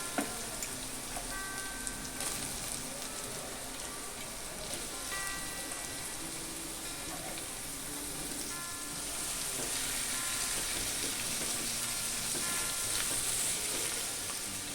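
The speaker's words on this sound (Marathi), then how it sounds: "आता आपण भोपळी मिरची घालून घेऊया।" Bell peppers and onion frying in a pan for a gram-flour capsicum stir-fry, a steady, even sizzle that grows slightly louder and brighter partway through, with no talking.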